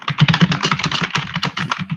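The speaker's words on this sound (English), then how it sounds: "I know you can hear the typing" Fingers type rapidly on a computer keyboard, close and fairly loud. Keystrokes patter in an uneven, continuous burst for about two seconds, with no voices over them.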